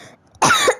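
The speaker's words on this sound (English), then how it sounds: "I got a bit of a cough." A single short cough from a podcast host, close and loud, following a quiet moment.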